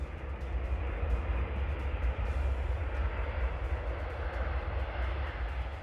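A US Air Force C-17 Globemaster transport aircraft roars loud and close with a broad, steady rumble that holds for several seconds.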